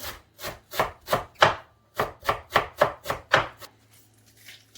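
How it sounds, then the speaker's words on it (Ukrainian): A knife chops parsley and dill finely on a board, about a dozen rhythmic, evenly spaced thuds in two bursts, close and crisp with no speech. "А тепер взяли петрушку та кріп."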